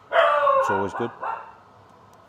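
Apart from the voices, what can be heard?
dog barking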